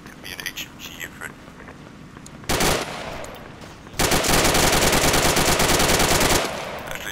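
Heavy machine gun fire from an HMG Ifrit in the Arma 3 video game, with a short loud burst followed by a longer sustained, rapid stream of shots, over a faint background of voices.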